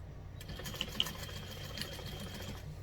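A sewing machine runs steadily while basting around a fold-over fabric clutch, a quiet, even mechanical whir with a couple of small clicks near the start and no talking.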